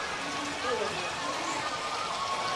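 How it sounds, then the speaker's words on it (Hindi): The Gaumukh spring at Chittorgarh Fort, a natural stream of water pouring constantly from a carved outlet, gives a steady close splashing rush throughout. "ये नेचुरल ओरिजिनल ये है जो गौमुख जलधार"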